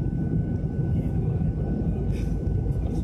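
An airplane flies over the sea, a steady low engine drone that holds an even level throughout without clear voices.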